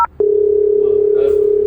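A phone placing a call to a friend gives a single steady electronic tone, loud and close, lasting about a second and a half after a short click.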